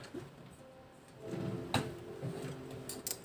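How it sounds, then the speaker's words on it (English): A drawer is slid open in a quiet room during a stitching session, giving a soft, drawn-out scraping rumble with a couple of light knocks and clicks near the end. "I'm gonna check my drawer real quick."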